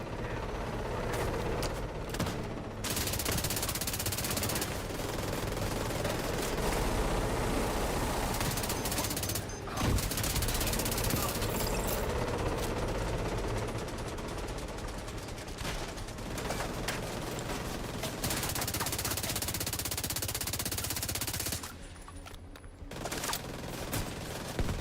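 Sustained automatic gunfire rattles in the Dune Awakening video game, dense overlapping bursts running almost without pause over a low mechanical drone, with brief lulls near the start and the end.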